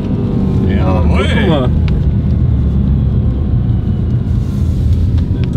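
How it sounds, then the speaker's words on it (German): A car accelerates hard on snow, its whole body vibrating from wheel imbalance; a loud, continuous low rumble and drone fills the clip, with a brief rising whine early on. "Hast du jetzt gehört, wie das ganze Auto vibriert hat?"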